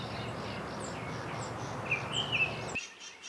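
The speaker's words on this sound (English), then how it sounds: "Now, singing up here, we have a Nashville Warbler." A Nashville Warbler sings outdoors in a series of high, quick chirps and short phrases over faint background hum, moderately close, before the sound cuts off abruptly.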